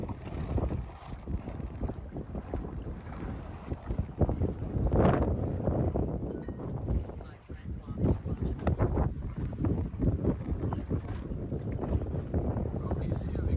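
A gust of wind strengthens over a sailboat off the Turkish coast, a loud continuous rush and buffeting against the microphone with water noise beneath, swelling and easing across the span.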